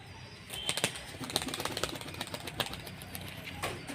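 Pigeons flapping their wings in quick, irregular bursts that repeat throughout, close by over a steady low background hum.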